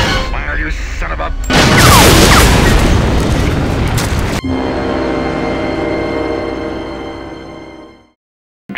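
A loud, dense burst of gunfire blasts at a grizzly bear in a film commercial for about three seconds, then breaks into a sustained ringing drone that fades away.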